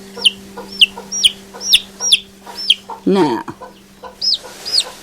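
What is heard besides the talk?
chickens clucking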